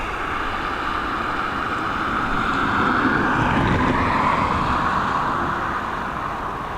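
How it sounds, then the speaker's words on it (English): A Delta airliner taxis onto its stand at Dublin Airport in high winds, a steady broad engine roar with wind noise that swells slightly in the middle and holds throughout, no talking. "Quickly pick up that Delta as she taxis onto her stand."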